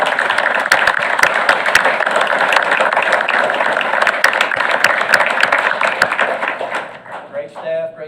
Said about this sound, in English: So I'd like to give them a quick round of applause.